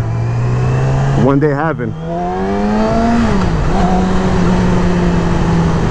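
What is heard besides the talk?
2020 Yamaha R6 motorcycle engine revving on test ride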